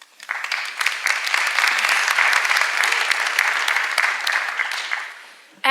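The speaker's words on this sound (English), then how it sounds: "I actually want to start giving all of you guys an applause for even turning up" A crowd at an entrepreneurship talk breaks into sustained, dense applause, loud and steady for about five seconds before quickly dying away.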